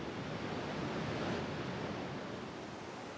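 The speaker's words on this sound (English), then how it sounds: "37 million gallons of water plunge nearly 200 feet over these falls every minute." Niagara Falls, with vast volumes of water plunging nearly 200 feet, makes a steady, dense roar of rushing water that holds constant and loud throughout, like heavy surf.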